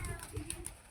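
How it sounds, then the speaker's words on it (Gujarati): A pigeon coos softly in a short, low murmur while people nearby feed pigeons pieces of roti, with faint background voices. "આવ્યું આપણા કબૂતર."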